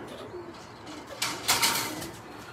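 Birmingham Roller pigeons in a loft making soft, low cooing calls, with a brief burst of wing flapping partway through.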